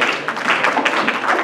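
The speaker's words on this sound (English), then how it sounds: "That was a really pathetic clap" Sparse, half-hearted applause from a conference audience at the start of a panel session, a thin scattering of claps at steady loudness for a moment, with no talking over it.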